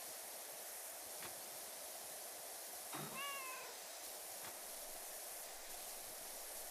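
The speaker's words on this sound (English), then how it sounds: "don't imply with the sound effects that I'm hurting the kitties" A cat meows in PowerWash Simulator 2, a single drawn-out, rising-and-falling mew over a steady hiss of game background noise, with a few faint ticks around it.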